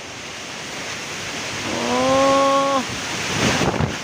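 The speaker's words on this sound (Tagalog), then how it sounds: "Kusog kayo hangin" Strong wind blows steadily around a small church, a broad hissing rush that swells louder midway, with a brief vocal call and some rattling near the end.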